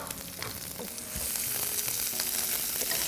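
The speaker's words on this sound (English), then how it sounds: "That sizzle and the splattering and the popping." Chopped onion hits a hot frying pan on a live morning TV cooking segment, a loud continuous sizzle growing fuller with scattered pops and spatters, no voices.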